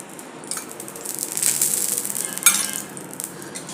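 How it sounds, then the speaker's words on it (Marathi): Oil sizzling on a preheated tawa before a thalipeeth is cooked: a soft, steady hiss that swells in the middle, with a sharper crackle near the end, close by and without talk. "तव्यावर थोडं तेल घालून घेऊया"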